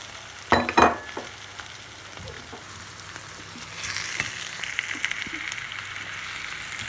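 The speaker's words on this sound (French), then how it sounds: "Maintenant, je vais rajouter mes petites courgettes râpées." Grated courgettes being added to softening onions in a pan, starting with a couple of loud thumps and clatters as they drop in, then a steady soft sizzle that grows brighter and busier, with no talking.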